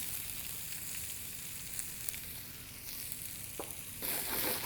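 Small onions frying in a pan on slow heat for mutton chukka, a steady close sizzle with faint stirring clicks, growing louder near the end.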